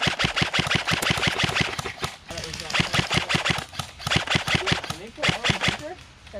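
Rapid bursts from an airsoft Thompson submachine gun rattle loud and close in repeated strings through a WW2-style trench game, with players talking over the firing.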